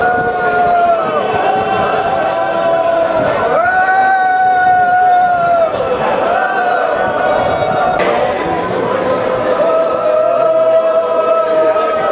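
A temple festival crowd at Theru Ashtamachal Bhagavathi temple raises long, drawn-out collective whoops and cheers over and over while circling the temple. The cheering comes as loud, sustained waves over a background murmur of voices.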